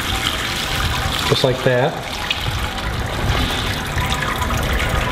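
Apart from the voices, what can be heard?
sparge water poured over grain bed while brewing beer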